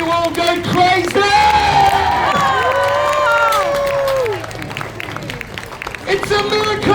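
A circus audience at a fun fair show claps and cheers loudly and continuously, with whoops and shouts rising over the crowd noise, then thinning slightly toward the end.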